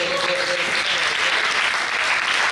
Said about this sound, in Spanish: un aplauso entonces para todos